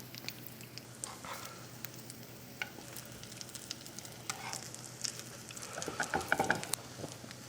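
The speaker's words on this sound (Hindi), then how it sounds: "हमारा कबाब स्लो आंच में पक के काफ़ी अच्छे से अंदर तक पकेगा" Kebabs frying slowly on low heat in a pan, giving a soft, steady sizzle with light crackles and a few scraping spatula touches, growing busier toward the end, close but quiet.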